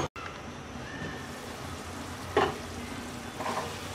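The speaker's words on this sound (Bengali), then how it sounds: "এবার বাঁধাকপি ভালো করে সিদ্ধ হওয়া পর্যন্ত রান্না করব।" Cabbage and potatoes cooking in a pan give a steady low sizzle and bubbling, with two brief louder clatters of stirring partway through; no voices.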